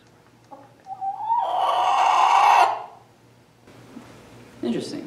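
A rooster crows loudly nearby in one long drawn-out call, followed by a few soft clucks and scratchy noises.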